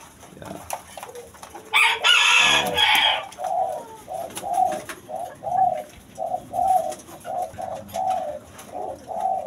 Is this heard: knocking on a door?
no